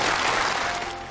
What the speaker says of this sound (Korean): 관람석에서 박수까지 보내주겠습니까?